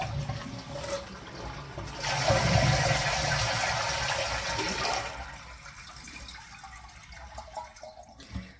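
A household toilet tank drains as it is flushed with the cover off, a broad rush of water swelling for a few seconds then settling into a quieter trickle and refill, heard close with no one talking.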